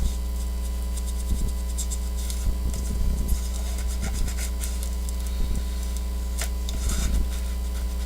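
Bone folder rubs and burnishes a paper pocket into a botanic album journal page, producing soft scraping strokes in short bursts over a steady electrical hum.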